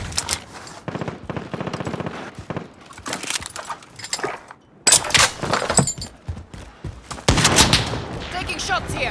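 Warzone gunfire crackles in bursts of rapid automatic shots and single reports, some close and loud, others farther off, with voices talking over parts of the fight.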